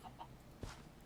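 A chicken in the Minecraft Better Than Wolves mod gives a single short cluck, fairly faint against a quiet background, with no talking over it.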